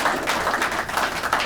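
An audience at a high school program ceremony applauds with steady, moderately loud clapping throughout.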